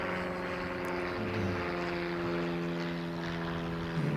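A light Aero Club plane, likely propeller-driven, drones steadily overhead throughout, its engine hum loud and continuous with a slight swell near the end.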